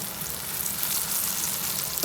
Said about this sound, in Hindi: बस मीडियम आंच पे तलेंगे, ज़्यादा स्लो नहीं करेंगे, टूट जाएंगे ये।